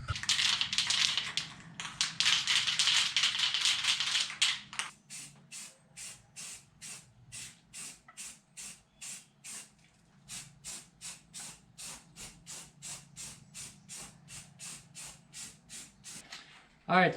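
Short rattle-can bursts of color-matched paint-shop paint sprayed onto a 1969 Barracuda during a back glass install, starting with a long continuous hiss and then breaking into a steady series of brief, evenly spaced spritzes, close and clear.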